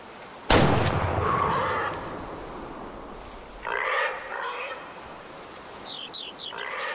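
A single sharp rifle shot cracks out loudly in the hunting video game Way of the Hunter, aimed at a pig, followed by a decaying echo, faint animal sounds and later rustling.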